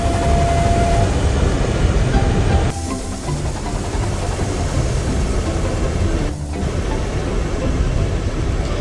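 A train named Milo hauls freight trucks along a railway, a loud, steady rumble of wheels and cars rolling close by, with a brief dip partway through before the heavy running noise resumes.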